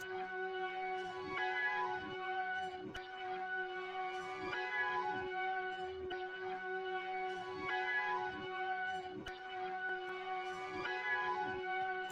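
A looped music sample played in reverse and pitched up 1100 cents, with smeared, backward-sounding attacks and a bright tone, pulsing in a steady rhythm at moderate level.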